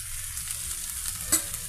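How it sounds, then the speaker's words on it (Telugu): Onion and green chili pieces fry in oil with a soft, faint sizzle, and a single sharp clink of a ladle stirring the pan comes near the end. "ఈ 3 పచ్చిమిర్చి పీసెస్తో మన పెద్ద ఉల్లిపాయ పీసెస్ ఈ విధంగా ఫ్రై అవుతున్నాయండి"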